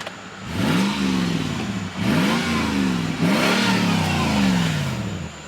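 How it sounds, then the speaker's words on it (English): Lexus GX470 SUV with a muffler delete, revved from inside the cabin: three deep, throaty blips of the engine, each climbing sharply and then falling away, loud and close with no talking. "let's do some in-car revs first."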